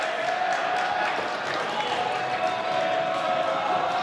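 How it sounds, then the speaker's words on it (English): The Darien student section at a high school boys' basketball game keeps up a dense, loud roar of cheering and shouting that stays steady from start to finish. "the Darien student section erupts on Silent Night when the Blue Wave scored"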